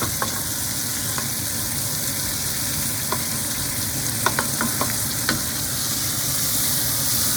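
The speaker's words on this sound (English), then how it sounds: "Then you're going to add some butter to the pan and melt it." Butter melting and sizzling in a hot pan with a steak, a steady close frying hiss with a few sharp crackles and pops, no talking.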